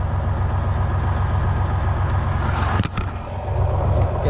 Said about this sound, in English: Alright, so I just started the truck.